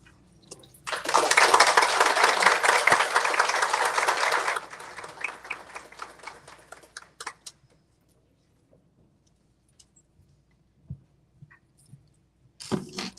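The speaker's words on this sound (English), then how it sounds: "Another big round of applause to Ms. Jacqueline J. Gonzalez." Graduation audience breaks into a loud, dense round of applause lasting several seconds, then thins to scattered claps before silence and a final brief burst.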